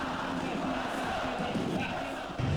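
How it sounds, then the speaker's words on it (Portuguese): A dense crowd of passionate Corinthians supporters packs the Gaviões da Fiel hall, a steady wash of cheering and chanting that fills the space close around, with no single voice standing out. "Foi difícil se meter no meio dessa torcida, que é apaixonada pelo time"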